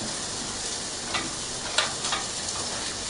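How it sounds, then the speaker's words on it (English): Steady crackling sizzle of burgers frying in a pan, with a few faint clicks and taps now and then. "you can hear the burgers sizzling away there"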